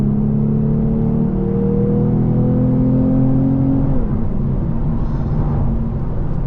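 A steady, loud low engine drone with a deep exhaust rumble from a Lexus IS350 with a muffler delete, pitch dropping slightly as the car eases off, heard from inside the vehicle.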